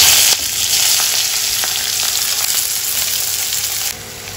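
Cumin seeds, ginger paste, onion and chili fry in a hot pan, a loud, steady sizzle with small crackles that eases slightly near the end.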